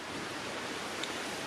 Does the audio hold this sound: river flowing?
yes